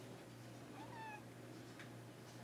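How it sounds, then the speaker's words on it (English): A pet cat named Minu gives a single short meow at close range, over a steady low background hum. "So, Minu. It's my cat, guys."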